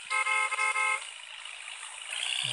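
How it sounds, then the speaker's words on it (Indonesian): Car horn in an off-road driving game sounds in a few quick honks close together, then fades into a steady engine hum. "Oke, ini ada klakson juga gitu."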